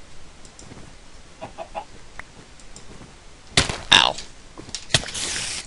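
Chickens cluck in the game Minecraft, with soft scattered clucks early on and then two louder, close bursts near the end over a quiet background.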